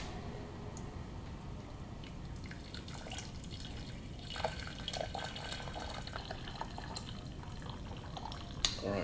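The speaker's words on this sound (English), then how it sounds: "So I'm going to fill this up with water around here so that way there's less space" Water poured into a container to cover a small rose, a soft continuous trickle and splash with a few brighter drips and plinks, fairly quiet and close.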